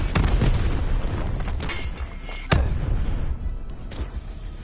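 Grenade blasts in a PlayStation 4 video game, a series of heavy booms with a sharp burst midway and rumbling decay, loud and close, with game effects filling the gaps.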